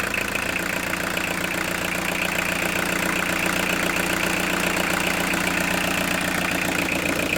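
A Peugeot 306 sedan's XUD turbo diesel engine runs with a steady knocking rumble, its revs holding constant throughout with no voices.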